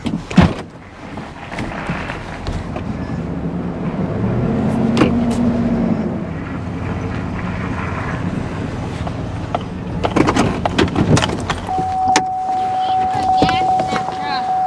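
A 1971 Chevrolet Nova SS with a 4-speed, nearly out of gas, is pulled ahead: a low, steady rumble and rolling noise continue throughout, with some clunks, a rising surge near the end and a faint thin whine.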